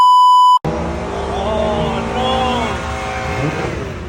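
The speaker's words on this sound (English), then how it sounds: "People are already burning this shit out" Cars at a JDM car meet rev loudly in a burnout, a continuous rising and falling engine roar that comes right after a short beep tone at the start.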